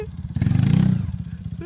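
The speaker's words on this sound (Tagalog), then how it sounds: "Naririnig ko na yung motor." A motorcycle engine on a mountain trail swells from near silence to a throaty revving rumble, peaking mid-clip before easing back slightly as it draws closer.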